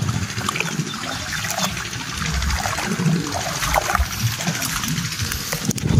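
Irrigation water floods an onion field of red dragon onions, trickling and gurgling in a continuous, close, moderately loud flow with small splashes.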